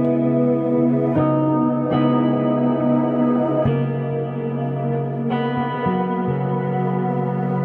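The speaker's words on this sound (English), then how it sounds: "I feel the Specular Tempest, right, with that huge reverb and decay and echo and things." Electric guitar run through a Specular Tempest reverb pedal, sustained chords ringing with a huge wash of reverb, long decay and echo trails, swelling and re-struck several times across the passage, loud and alone.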